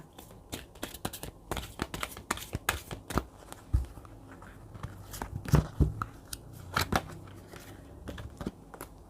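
Angel oracle cards being shuffled and drawn for a Thai love reading, a close run of quick papery riffles, flicks and taps in irregular bursts with no voice over them.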